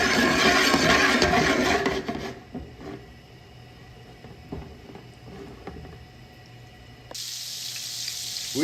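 Olive oil and butter sizzle loudly in a pan for shrimp scampi, a bright hiss that cuts off after two seconds, followed by quiet clinks and handling before the sizzling returns near the end.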